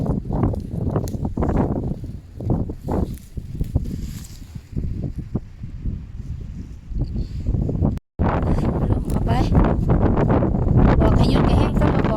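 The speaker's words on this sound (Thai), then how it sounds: "ฟังเสียงลม" Steady wind over a marsh buffeting the microphone, a loud continuous rumble with gusty swells and brief rustling, broken by a short cut near the middle.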